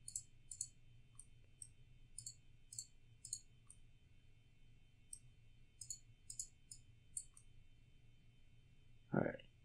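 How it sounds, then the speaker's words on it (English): Computer mouse clicking in quick irregular bursts of two or three sharp, close clicks spread over the whole stretch, with a low steady hum underneath and a brief louder thump near the end. "And let's just click a little bit."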